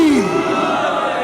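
Crowd at a Shia religious gathering (Mehfil-e-Noor in Hallaur) shouting the slogan 'Haidari' in unison in response to a call, a loud sustained group chant filling the hall.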